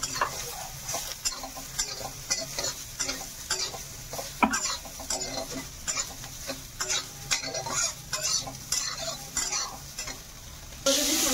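Soybeans with turmeric are stirred in a frying pan, giving repeated scraping strokes in an uneven rhythm over a soft ongoing sizzle, close up with no voices.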